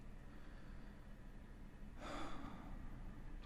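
A single deep breath during a guided meditation, a quiet, close inhale and exhale rising out of a faint background hiss.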